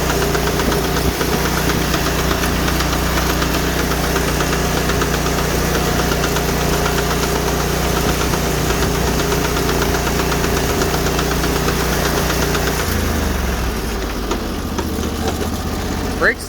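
A Sears Suburban garden tractor runs with a steady, close mechanical drone and repetitive knocking from its worn, failing transaxle, continuous for most of the stretch before the engine note drops and settles near the end.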